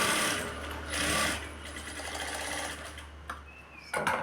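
A sewing machine stitches the lining layers of a blouse in one steady mechanical run, loud and close, with no talking, then stops into a couple of faint clicks and handling sounds.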